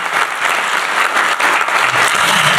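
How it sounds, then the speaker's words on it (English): Audience applause for panelists at a congressional caucus health forum, a dense, even wash of many hands clapping, loud and sustained throughout with slight swells, with no speech on top. "Can we give them a round of applause?"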